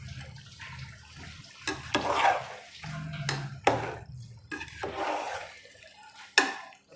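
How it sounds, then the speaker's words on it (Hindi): Water is added to a pot of rice for beef yakhni pulao, with splashy pours and gurgles broken by sharp knocks and scrapes against the pot, close and moderately loud, with no speech. "इसके बाद यहाँ पे मैं इसके अंदर ये पानी ऐड करने लगा हूँ।"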